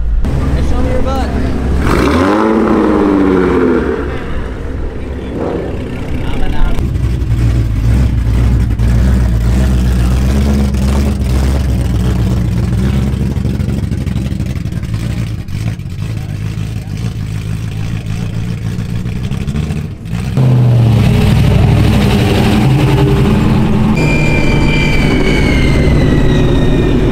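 A Mustang's engine revving while the car backs into place at a pre-meet gathering, a loud sustained drone with a few rises in pitch, heard under people talking nearby.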